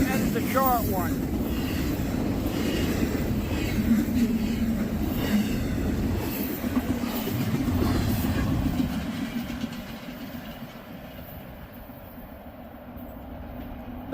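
A short UPS freight train rumbles past nearby, a steady low rolling roar with wind buffeting the microphone, fading away toward the end as the last cars go by.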